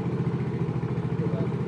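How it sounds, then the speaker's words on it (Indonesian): A fuel-injected motorcycle engine starts and idles steadily nearby with a low, even chugging rumble and a bit of mechanical clatter. "Coba kita hidupkan motornya"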